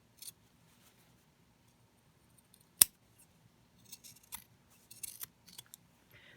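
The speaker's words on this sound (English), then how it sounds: "I'm just going to snip off the corner here and here, and then trim sort of close" Scissors snip the fabric corners of a three-layer cotton face mask: faint, scattered close cuts with one sharp, louder snip early on and clusters of small clipping sounds later, over near silence.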